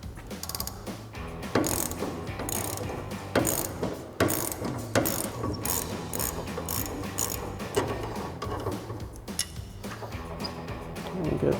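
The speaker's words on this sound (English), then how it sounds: "you might have to switch out to your 18mm ratchet wrench and an 8mm socket" An 18mm ratchet wrench loosens a strut nut on a Ram 1500 front suspension, rapid clicking pawl bursts repeating in uneven spurts, close and clear, with brief pauses between strokes.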